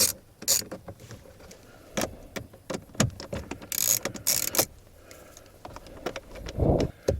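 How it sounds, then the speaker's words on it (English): Two 7mm screws being backed out of a Ford F150 dash panel, with a series of close ratcheting clicks and small mechanical rattles in irregular bursts, no talk. "there's two 7mm screws that you'll need to remove"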